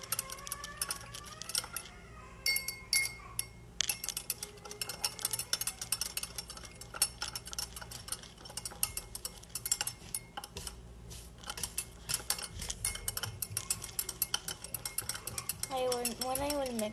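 Stirring a mixture in glassware in a school science lab, with rapid, continuous clinking and scraping, busy and fairly faint, and a few brief higher tones near the start and end.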